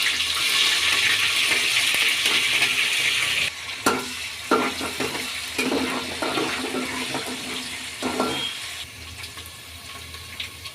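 Mustard seeds, urad dal and chana dal fry in hot oil, with a loud, dense sizzle for the first few seconds. It then thins into crackling pops and stirring clatter that fades gradually.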